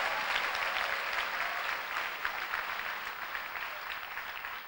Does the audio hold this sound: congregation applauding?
yes